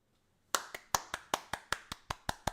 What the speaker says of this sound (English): I want you to hear that clap for our guy BJ.